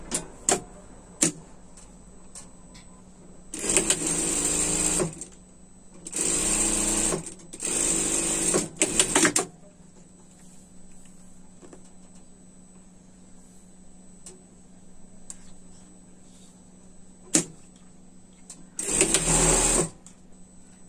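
A sewing machine hems the sleeves of a pet's winter dress, running in several loud bursts of a few seconds each, separated by quiet pauses with faint handling clicks.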